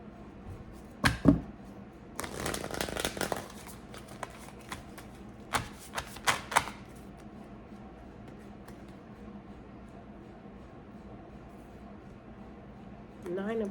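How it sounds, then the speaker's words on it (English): Tarot cards slowly shuffled: bursts of papery riffling and soft card slaps come in a few separate spells, close by and moderately loud, with quiet pauses between them. "A slow shuffle."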